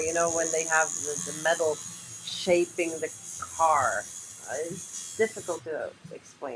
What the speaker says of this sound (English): This is the sound of the coil machine.